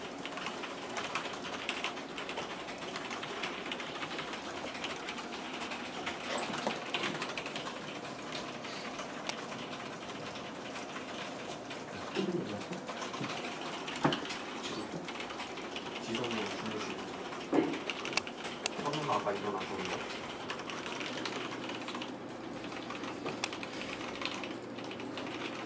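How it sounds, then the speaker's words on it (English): Steady, rapid clatter of keys on a Zowie computer keyboard at a busy gaming practice room, continuous and moderately close with a few sharper hits, under faint room noise and occasional talk. "Zowie keyboard."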